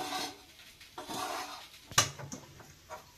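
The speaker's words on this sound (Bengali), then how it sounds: "এই এবার অনবরত নাড়তে থাকবে" Utensil scraping and clattering in a cooking pan over a low gas flame as chotpoti is stirred continuously with ghee nearby, giving soft repeated scrapes and one sharper clack of metal, close and fairly quiet.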